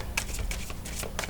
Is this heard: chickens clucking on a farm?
no